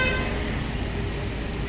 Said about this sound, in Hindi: बहुत ज़्यादा ट्रैफिक है यहाँ मार्केट में